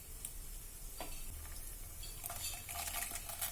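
Mustard seeds, cumin and chana dal frying in oil, a faint crackling sizzle with light ticking pops and occasional clinks of a utensil in the pan, nobody speaking.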